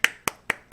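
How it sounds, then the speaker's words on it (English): Hands clap four times at an even, moderate pace, each clap sharp and close with brief silence between. "Clap."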